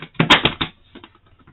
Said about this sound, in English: this one actually flew out of the deck while I was shuffling